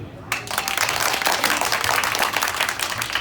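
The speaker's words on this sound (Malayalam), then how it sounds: "ആൾക്കാരൊന്ന് കൈയടിച്ചേ" An audience at a stage show breaks into applause on request, a dense burst of many hands clapping that starts abruptly and carries on steadily, with some voices under it.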